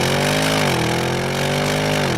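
A 2020 Porsche Macan Turbo's engine holds a loud, steady, droning note, its pitch dipping slightly partway through and then holding again, with no talking.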